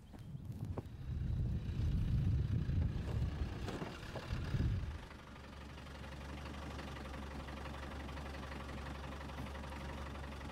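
Land Rover 110 Defender driving off-road: a low engine drone with knocking and wind buffeting for the first few seconds, then a steadier, quieter idle-like hum carrying on to the end.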